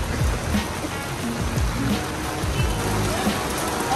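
Steady rain patters across a surface during a rain test of an electric scooter, with voices talking intermittently over the continuous hiss.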